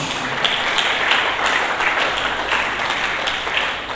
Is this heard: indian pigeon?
no